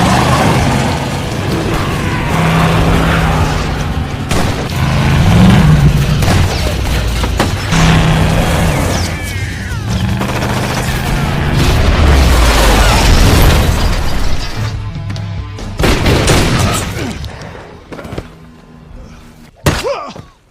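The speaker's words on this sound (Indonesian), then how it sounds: "Dan terjadilah adegan tembak-tembakan di mana Milton harus tertembak beberapa kali" Loud film gunfight with repeated gunshots and heavy bangs over music, thinning out near the end before a final sharp crack.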